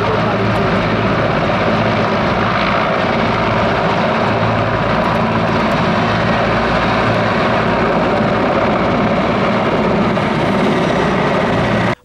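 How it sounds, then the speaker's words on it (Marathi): A helicopter carrying the Prime Minister lifts off after a rally in Solapur, its engine and rotor roar loud and steady throughout, with broad crowd or ambient noise mixed in. "त्यानंतर मोदींचं हेलिकॉप्टर आकाशात झेपावलं"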